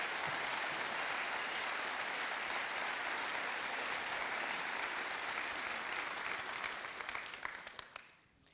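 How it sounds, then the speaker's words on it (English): A large conference audience at DrupalCon Amsterdam 2014 claps steadily in a full, dense wash of applause that holds for several seconds and then tapers off at the end. "Stand up and get a round of applause."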